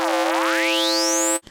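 A synth effect from the Omnisphere 3 frequency shifter gives an alien-type sound, a single sustained tone whose cascading harmonics sweep steadily upward like a boing, loud and alone, cutting off abruptly after about a second and a half.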